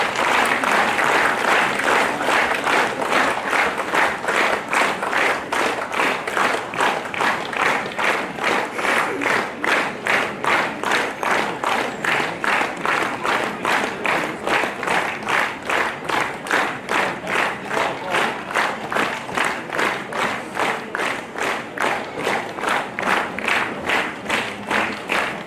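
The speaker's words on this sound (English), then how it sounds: "Let us give a bigger round of applause for them." An audience at a 2024 awards ceremony keeps up loud, sustained applause, many hands clapping in a dense, rhythmic wash that lasts the whole stretch without fading.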